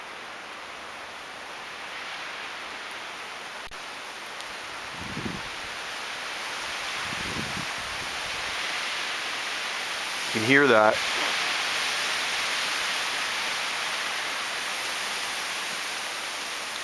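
Strong spring storm wind rushing through trees in the Southern Gulf Islands: a steady, broad, hissing roar that holds throughout, with a brief spoken remark partway through.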